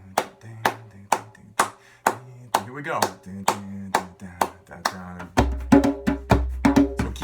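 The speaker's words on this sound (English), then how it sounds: "So keep clapping or snapping or dance if you want to." A group claps or snaps along in a steady beat to a song, sharp regular hits over music with a bass line, a voice briefly speaking over the rhythm.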